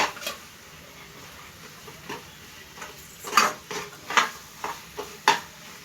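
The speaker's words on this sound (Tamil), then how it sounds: "அதை நல்லா மிக்ஸ் பண்ணிடலாம்." A spoon stirs chili powder into tomato thokku in a pan, giving soft scrapes and light metallic clinks at irregular intervals that grow a little louder toward the end.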